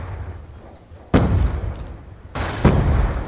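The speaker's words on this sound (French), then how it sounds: "Une petite grenade." A grenade explodes in a first-person shooter game, a loud, close boom with a deep rumbling tail, followed by a second heavy blast and a further thud.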